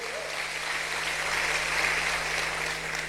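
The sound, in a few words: applause for God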